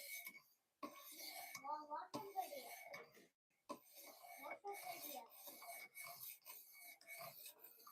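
A knife blade rasps back and forth on a silicon carbide sharpening stone, close and gritty, in repeated strokes broken by short pauses.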